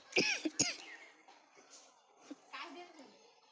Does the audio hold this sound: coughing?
yes